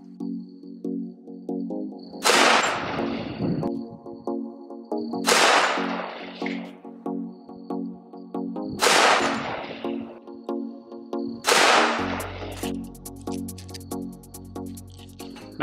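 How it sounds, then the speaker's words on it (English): Four shots from a Dan Wesson Silverback two-tone 1911 pistol loaded with Critical Duty rounds ring out about three seconds apart, each a sharp crack with a short tail over a steady background hum, and no talking. "We'll fire four rounds of critical duty."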